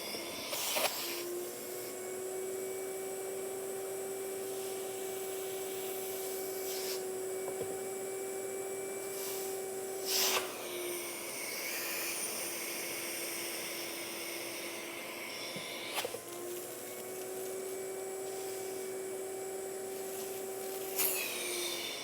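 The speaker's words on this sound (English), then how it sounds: "Now run the vacuum and apply vacuum from underneath and let's see what happens." A shop vacuum hums steadily, applying suction from underneath wood to draw glue through, a constant whine with a couple of brief shifts in pitch, close and moderate with no talk.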